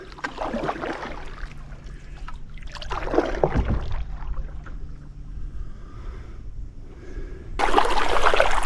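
A 1975 Lincoln canoe is paddled on open water, with repeated swishing paddle strokes and gentle trickling and lapping close by, ending in a louder splash.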